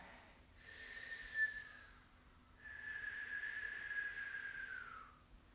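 Two long, breathy whistling tones from yoga breathing, one short and one longer, each produced on a slow breath, close and fairly quiet.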